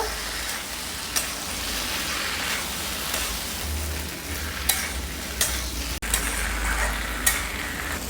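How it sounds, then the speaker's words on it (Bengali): Mixed vegetables sauté in a hot pan for Bengali panchmeshali posto, giving a steady close hiss and sizzle with occasional sharp clicks and scrapes of a stirring spoon. "সবজিটা আমি ভালোভাবে কষিয়ে নিচ্ছি"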